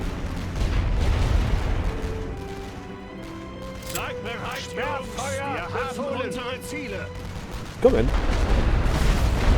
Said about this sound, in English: See if we can destroy these 4 trenches with the heavy siege artillery